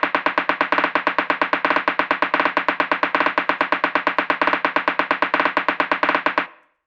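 Techno drum roll of rapid straight sixteenth-note hits, a dense, even machine-gun stream of sharp percussive strikes with pulsing accents, loud and dry, cutting off abruptly near the end, with no voice.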